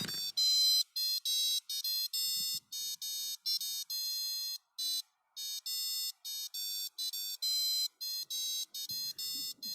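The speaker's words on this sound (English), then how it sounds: "I'm gonna try to get you guys to listen to the buzzer music." A piezo buzzer on a circuit board driven by an ATtiny85 plays a simple electronic melody of bright, evenly spaced beeping notes with short gaps between them.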